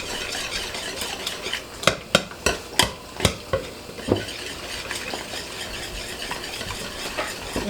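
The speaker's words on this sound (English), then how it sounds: "I've got my trusty whisk. I'm gonna go ahead and start mixing this together." A whisk beats a homemade grain-free dog treat mixture with coconut oil in a bowl, giving a run of sharp, evenly spaced scraping strokes, loud and close, then softer, slower taps.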